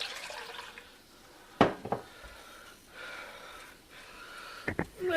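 Two cups of water pour into a pot for pickling brine in a few short splashing gushes, close and moderately loud against a faint room background.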